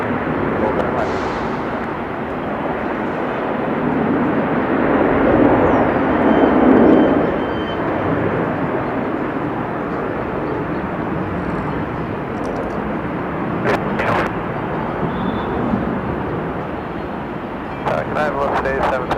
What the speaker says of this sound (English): Great sounds there from the A330 on departure.